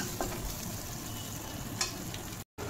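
Masala with green chilli fries in a pan as a soft, steady sizzle that runs continuously through the short stretch, with a faint stir or scrape partway and a brief dropout near the end.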